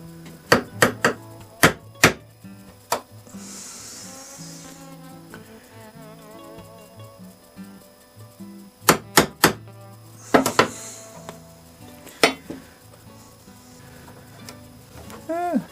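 A Tim's Workshop tinker hammer taps a metal part while a Mercury Mark 10 outboard motor is being reassembled. Sharp, close knocks land in quick clusters of two to four, with pauses between them, over quiet workshop background.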